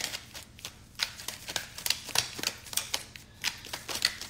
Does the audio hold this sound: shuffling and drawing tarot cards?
yes